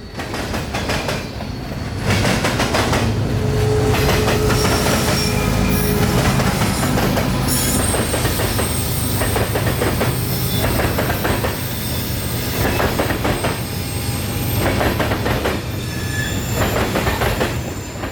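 A loaded grain freight train rolls along the railroad toward a flour mill, a loud continuous rumble with wheels squealing and clicking over rail joints, close by and with no voices.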